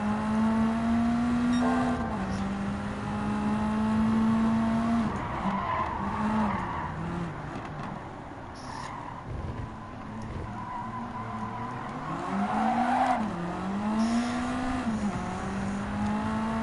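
A Ferrari F430 race car in Gran Turismo 7 holds a steady engine drone, its pitch dipping and climbing through gear changes, with prolonged tire skidding throughout.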